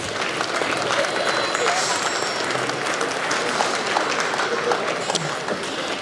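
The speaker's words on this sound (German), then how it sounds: "sie kriegt sicher einen ganz grossen Applaus von euch" Crowd applause at a lantern festival in Bad Ragaz as the Lichterkönigin 2016 is presented: a broad, sustained wash of clapping that holds steady for six seconds, with voices mixed in beneath it.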